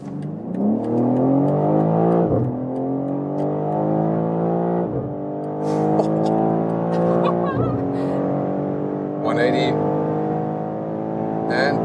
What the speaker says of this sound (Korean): 이제 시속 50km에서 가속해 볼게요.